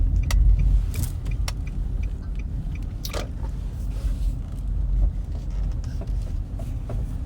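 Interior hum of a car being driven, a steady low rumble with scattered small clicks and rattles inside the cabin and no talking.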